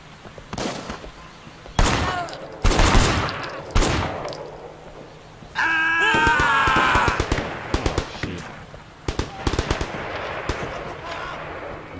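Automatic and single gunshots from a squad in the video game Sleeping Dogs, loud bursts and rapid fusillades close by, with game voices and effects between the volleys.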